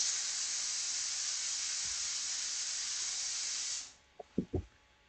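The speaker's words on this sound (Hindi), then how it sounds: "कुकर की सीटी बज गई।" A pressure cooker whistle blowing in a kitchen, a loud continuous steam hiss that holds steady for about four seconds, then cuts off, followed by a few faint knocks.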